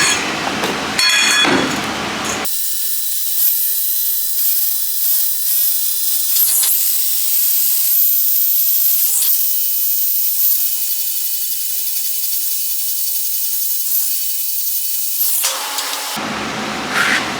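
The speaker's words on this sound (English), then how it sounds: "I'll do everything with this welder" Welding a small paper roll bracket with the heat turned down, a loud continuous crackling hiss that starts abruptly and holds for about thirteen seconds before cutting off.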